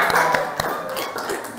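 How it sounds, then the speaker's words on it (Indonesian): Classroom applause for the winners of a school competition, with scattered hand claps and taps that keep going for a moment as people join in, under and around an adult voice speaking. "Kita kasih tepuk tangan untuk juara 1,"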